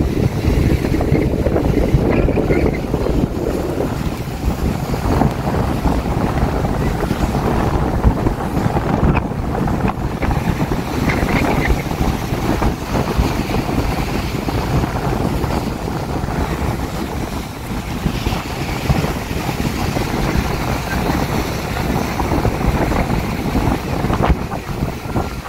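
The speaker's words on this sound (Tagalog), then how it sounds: "Grabe, ang lakas ng hangin." Strong coastal wind buffets the microphone in a continuous loud roar, with heavy low rumble and gusting texture throughout and no voices.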